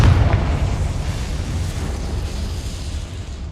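A Confringo spell blast in Hogwarts Legacy gives a loud, low boom at the start that decays into a sustained rumbling roar and fades slowly over a few seconds.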